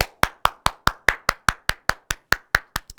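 Clapping at the end of a lecture for postal-service civil exam students: crisp, evenly spaced claps, about fourteen in three seconds, close and dry in a quiet room, quickening slightly at the end.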